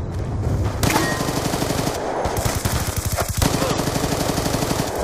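Rapid automatic gunfire in a first-person shooter video game, loud, close bursts of rattling shots with a brief pause partway through, then more sustained firing.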